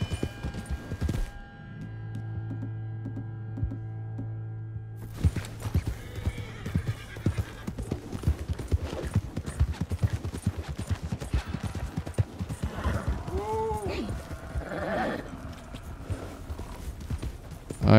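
Horse hooves clip-clop steadily in Red Dead Redemption 2, a continuous trotting patter with a whinny partway through, over game ambience and music.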